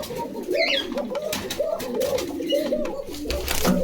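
Fancy local pigeons coo in low, throaty, repeated rolls close by, mixed with wing flutters and background voices of people nearby.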